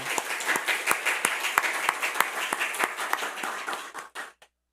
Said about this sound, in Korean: 우리 그들께 감사 박수 한번 드리겠습니다.